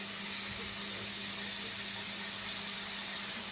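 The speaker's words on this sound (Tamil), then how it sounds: "இந்த வெங்காயம் நல்லா வதங்கிட்டு இருக்கு பாருங்க" Onions sautéing in a pan for a coconut sankara fish curry, giving a steady, soft, continuous sizzling hiss with no pauses.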